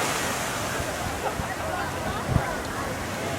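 Big ocean waves at Nordeste in Bahia wash onto the shore in a continuous broadband roar with a few heavier surges, close and loud, while people talk over the surf.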